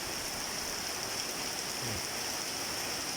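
Steady, dense hiss of heavy rain pouring down behind a house, constant and enveloping with no pauses, with only a faint brief sound underneath.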